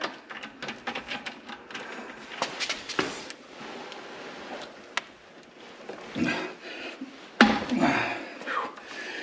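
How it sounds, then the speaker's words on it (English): An 11/16 socket wrench working loose a tight drain screw on a Bass Tracker Classic XL boat, producing repeated close ratcheting clicks and metallic taps with a few scraping bursts, quiet room, no talk. "we're going to break the seal on that screw with our 11/16 socket wrench right here"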